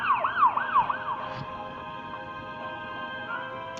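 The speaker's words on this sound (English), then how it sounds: "Police car." A police car siren wails with fast rising and falling sweeps at first, then settles into a steady, sustained tone, loud and clear with no talking.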